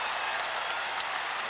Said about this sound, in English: Home crowd loving the first shot of her senior year.